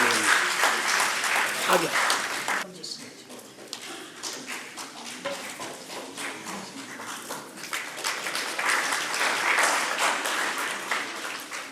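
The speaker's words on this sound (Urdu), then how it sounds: "آپ سب کے تالیوں کے ساتھ آپ کا استقبال بھی کرتے ہیں" Audience applause welcoming a speaker at a closing address on Urdu, Kashmiriyat and shared cultural traditions, a dense steady clatter of clapping through the whole stretch with a voice speaking briefly over it.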